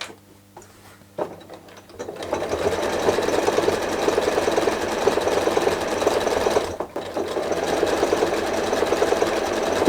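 A sewing machine stitches binding onto a quilt: after a few clicks it starts up and runs in a steady, close mechanical whirr, with a brief dip partway through and no voices.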